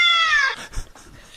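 A person imitates a cat over the phone, a high, drawn-out meow about half a second long, followed by a couple of softer, shorter vocal bits.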